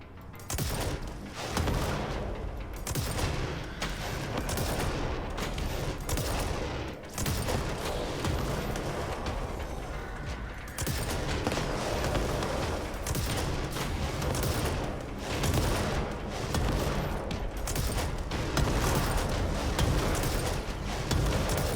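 Sustained rapid gunfire from a weapon in the video game Control, dense bursts of shots and booming impacts filling the whole stretch, loud and close with brief pauses between volleys.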